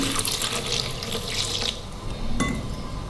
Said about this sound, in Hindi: थोड़ा सा दूध शामिल करेंगे इसके अंदर।